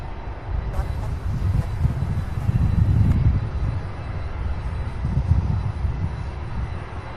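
A Boeing 767 takes off at Louisville's SDF airport, a steady low broadband rumble of jet engines that swells and holds without a break, with a faint high hiss riding over it.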